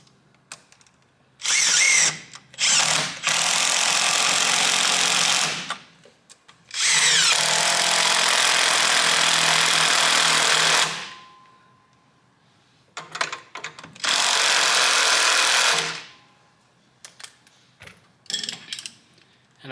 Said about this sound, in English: just tighten your clamps up. We'll tighten the compressor cover up